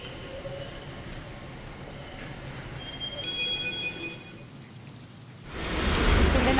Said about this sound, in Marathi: मुसळधार पाऊस पडला आहे